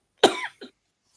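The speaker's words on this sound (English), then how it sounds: "I'm really tired of coughing" One harsh, close cough followed by a short second hack, then silence.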